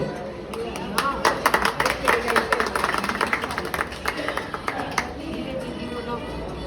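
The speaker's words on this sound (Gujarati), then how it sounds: "આપણે તાળીઓથી વધાવશું." Audience applause welcoming guests to a lamp-lighting ceremony at a Women's Day event, a room of steady clapping with scattered sharper claps and murmuring voices underneath, swelling in the middle and easing off toward the end.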